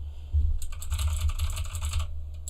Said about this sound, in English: I might need to get like a nicer, not as loud keyboard